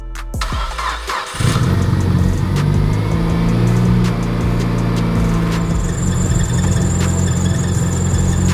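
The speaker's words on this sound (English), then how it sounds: "the belt is squeaking again" A Mitsubishi Lancer Evolution engine cranks and catches in snowy weather, then runs loudly at idle with a persistent high-pitched belt squeal riding over the rumble.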